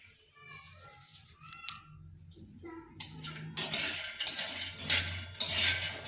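A child plays with kitchen pots, cups and spoons, producing clinks and metallic clatter that grow louder and busier in the second half, with voices talking in the background early on.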